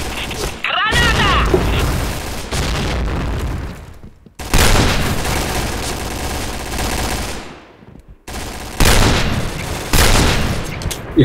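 Loud explosions and bursts of gunfire from a grenade blast in the online shooter game Point Blank, with several heavy booming segments separated by brief gaps, under shouted voices.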